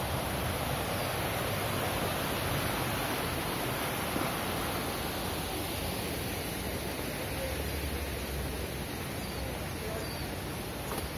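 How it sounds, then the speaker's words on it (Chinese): A small waterfall in the Atami plum garden gives a steady, unbroken rush of falling water that fills the whole stretch, with no voices over it. "下面还有小瀑布。"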